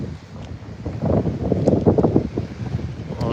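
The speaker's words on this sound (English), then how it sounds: "Very windy, so I apologize for the wind." Heavy wind buffets the microphone in low, rumbling gusts that swell and subside on a rainy day in the Philippines, with no talking.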